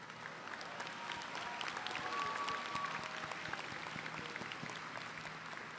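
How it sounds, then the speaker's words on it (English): A high school graduation audience applauds steadily throughout, a dense wash of clapping that swells slightly then holds. "let's give them another round of applause"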